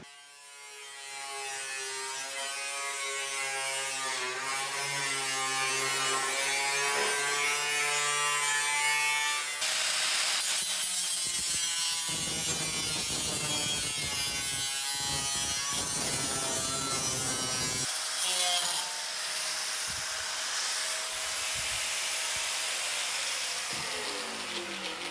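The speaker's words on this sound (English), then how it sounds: "Let's go cut some stainless steel." A power tool cuts stainless steel exhaust hood duct covers, giving a loud, steady, buzzing whine with a hissing edge that runs almost unbroken for about 25 seconds and shifts pitch partway through, with no talking.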